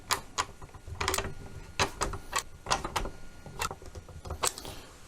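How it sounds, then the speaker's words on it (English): A wrench ratchets and clicks in short, irregular bursts while snugging bolts on a Gladius Mini underwater drone being fitted with landing gear, close and moderately loud with no talking. "Let me grab a wrench and we'll snug those up."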